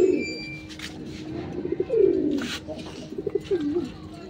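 Pigeons coo softly and repeatedly close by as they drink from freshly filled water containers, with a few low rolling calls over a quiet background.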